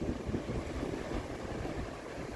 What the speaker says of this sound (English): it's a bit windy still